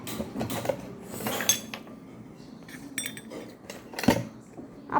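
Kitchen plates, cups and pans are handled and set down in a home kitchen, giving scattered clinks and clatters of dishes and cutlery with a few sharp knocks, near and irregular.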